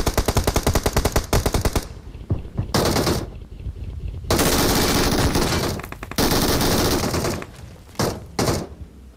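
Rapid automatic gunfire in the BGMI battle royale game, bursts of dense close shots with short gaps between them, loud and continuous through most of the stretch, no voices.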